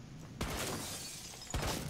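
Glass shattering in the tactical shooter Rainbow Six Siege, two loud crashing breaks about a second apart, close and bright, with no talking.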